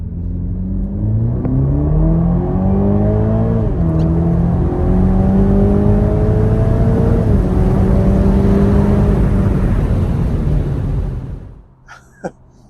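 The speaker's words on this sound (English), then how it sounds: "here is how it sounds when you push down the gas pedal" A 2023 BMW Z4 roadster's turbocharged inline-4 revs hard under acceleration, a loud, steady rising engine note with audible gear shifts, heard up close and alone before cutting off abruptly near the end.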